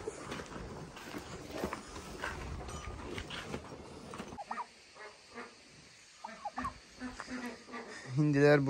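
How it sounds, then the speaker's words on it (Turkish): Turkeys on a farm make a few scattered, fairly faint calls and clucks amid outdoor rustling and background noise, with a brief closer burst near the end. "Hindiler burada."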